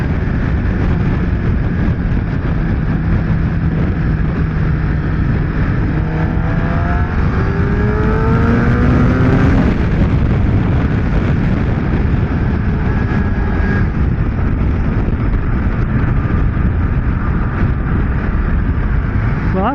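A Suzuki GSX-R750 sport motorcycle accelerates on a freeway, its engine note climbing steadily through rising revs over continuous loud wind and traffic roar, close to the rider throughout.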